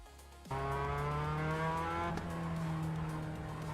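A race car in the video game Project Motor Racing starts accelerating suddenly, and its engine tone holds loud and sustained as the revs climb slowly and steadily.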